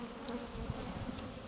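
Honey bees buzz steadily around a beehive on a remote Greek island, a faint continuous low drone with no voices.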